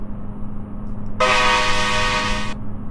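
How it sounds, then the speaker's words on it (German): Over a low engine drone, a single loud car horn blares for about a second and a half, then cuts off, from a VW Crafter van in Euro Truck Simulator 2. "ich hab sie immer noch drin, die Hupe"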